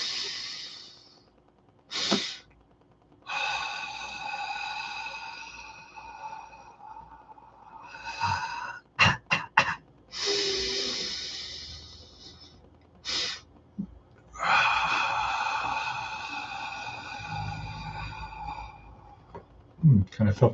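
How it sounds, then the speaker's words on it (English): Exhale followed by a double intake of breath through the nose during a guided breathing exercise, soft and close, set among stretches of talking. "Push your stomach in and then inhale through the nose."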